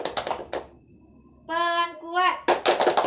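Primary school pupils clap rapidly in bursts, alternating soft and loud, with a teacher's voice calling out between the bursts.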